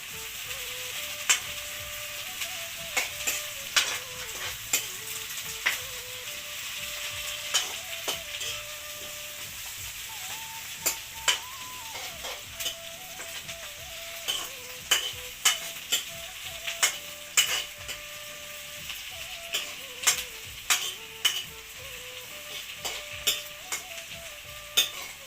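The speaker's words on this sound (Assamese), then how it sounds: "ইয়াত তেজপাত দুখিলা দি দিছোঁ আৰু এতিয়া মই লৰাই দিম অকণমান" Bay leaves and cinnamon frying in a pan give a steady sizzle, broken by repeated scraping strokes of a spoon stirring them, close and clear, with no voices.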